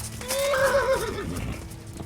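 A single horse whinny in the video game Kingdom Come: Deliverance rises and trails off over about a second, heard up close against faint background noise.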